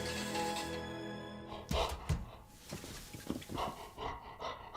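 A dog in a video game pants in quick, breathy rhythmic bursts, close and fairly quiet, following a short sustained tone at the start.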